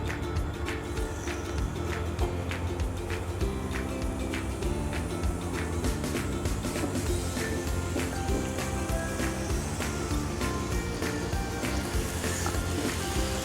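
Cabbage-wrapped chicken rolls frying gently in a pan over low heat, a steady soft sizzle running throughout, with faint background music and occasional stirring noises.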